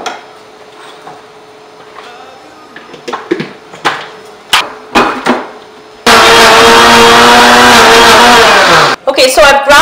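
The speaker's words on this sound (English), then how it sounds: "I've ground up the onion together with the coriander" An electric grinder blends onion with a wet coriander mixture for a lamb curry, roaring loud and steady for about three seconds after scattered knocks and clatter, then winding down.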